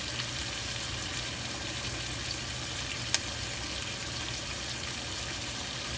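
Steaks sear in a pan on the stove while butter and thyme are spooned over them, giving a continuous close, crackling fry with a few sharp pops.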